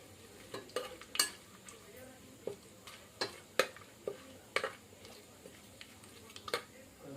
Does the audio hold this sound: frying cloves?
yes